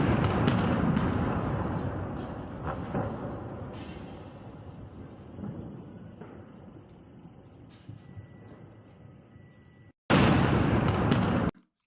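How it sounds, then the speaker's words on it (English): Explosions from drone attacks on Odessa, a heavy, rumbling blast that slowly decays into a long roaring tail, then another loud burst strikes near the end before an abrupt cutoff. "we can see lots of fire from these explosions, from these drones incoming to Odessa"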